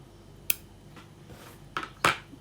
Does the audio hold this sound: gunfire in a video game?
no